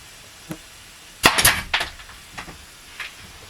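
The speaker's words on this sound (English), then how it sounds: "Gonna nail one now" A nail gun fires a nail into wood while building a cube closet inside a school bus conversion: one sharp, loud close snap followed by clattering rattles, with a few fainter knocks before and after.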